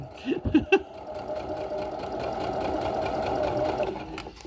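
A sewing machine stitches a rolled hem in fabric with a steady, fast mechanical whir. A few brief knocks come at the start, then the stitching runs continuously up close.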